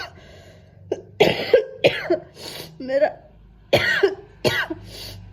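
A woman with a cold, fever and sore throat coughs several times in short, harsh bursts close to the mic, mixed in with her own talking.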